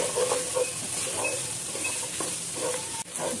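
Carrots and long beans being stir-fried in a pan give a steady, close sizzle with scraping stirs throughout, ending in a sharp clack near the end.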